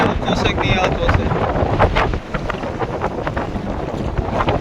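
Strong wind buffeting a fishing boat at sea, a loud continuous roar of gusts and rushing air close to the microphone, with someone talking over it.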